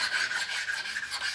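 Hand sanding a Cummins diesel cylinder head with the coarse side of an abrasive gives a steady, close, continuous rasping scrape with a gentle back-and-forth rhythm and no talking.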